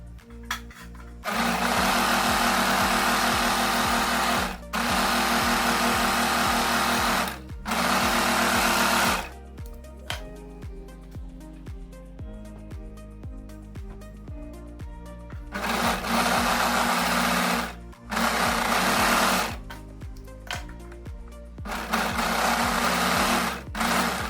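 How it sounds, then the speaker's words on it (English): Overlocker stitching along the top edge of skirt pieces, a loud steady mechanical whirr in long runs of several seconds, each stopping abruptly, with brief pauses and a quieter stretch between runs, no voice. "you're going to overlock along your top edge"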